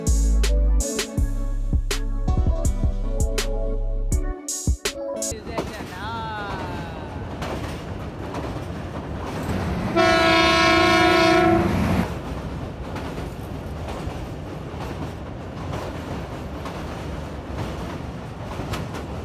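The 13 Up Awam Express crosses the Chenab bridge in monsoon rain, heard as a loud continuous rumble and rattle of wheels on rails, with a sustained horn blast partway through and some talking early on.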